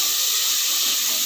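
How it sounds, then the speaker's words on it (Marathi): Chopped tomato sautéing with browned onion in a pan, a brief loud steady hiss and sizzle close up, no talk. "आता आपण त्याच्यात चिरलेला टोमॅटो टाकूयात। टोमॅटो सुद्धा छान परतून घ्यायचा।"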